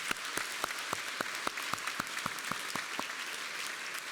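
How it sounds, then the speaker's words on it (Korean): A church congregation at a Sunday service clapping together in a steady, rhythmic beat, about three claps a second, moderately loud in a reverberant hall with no voices over it. "왕이신 하나님께 영광의 박수 올려드리겠습니다"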